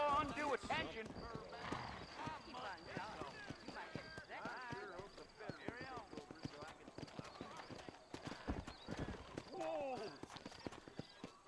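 In the Red Dead video game, a horse's hooves clip-clop rhythmically while it neighs and whinnies over a game soundtrack, with a person talking throughout.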